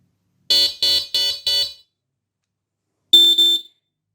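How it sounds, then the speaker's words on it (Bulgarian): An electronic beeper for pointing hunting dogs sounds its start signal: four sharp, loud, high electronic beeps in quick succession, then a pause and two more, with silence between. "При доближаване до дясната капачка ще чуете звуков сигнал, който показва, че Beeper е стартиран"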